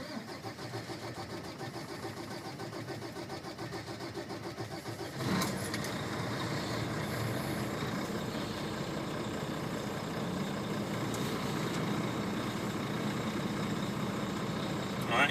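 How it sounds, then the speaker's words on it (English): A truck's diesel engine cranks and catches with a sharp burst, then settles into a steady, close idle that runs to the end, preceded by quiet cab noise. "Next thing I'm going to do is go ahead and start my truck."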